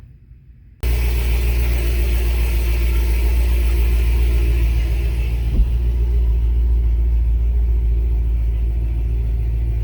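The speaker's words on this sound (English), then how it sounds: "And it runs again." A Chevy SS V8 idles steadily and close after a new differential and gear install, a constant low rumble starting abruptly after a brief quiet moment and holding at an even level throughout.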